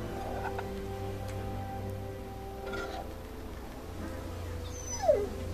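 A dog whimpers and yips softly in The Walking Dead video game, faint over a low ambient background, with one sharper whine near the end.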